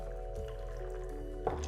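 Pink Paloma mezcal cocktail strained from a shaker through a strainer into a glass, a soft steady trickle and drip over a constant low hum, ending with a small splash.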